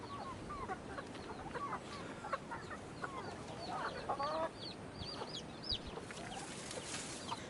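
Chickens cluck and chatter in a quiet rural setting, with repeated short calls scattered across a soft background, some nearer and louder around the middle.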